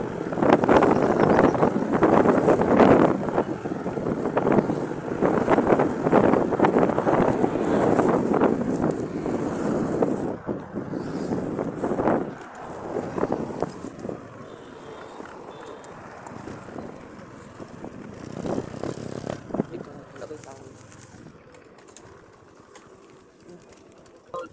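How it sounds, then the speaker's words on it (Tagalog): Steady wind buffets and rushes across the microphone, gusting louder early on, with faint bird cooing and occasional soft background noise. "paminaw lang ninyo guys ang hangin sa"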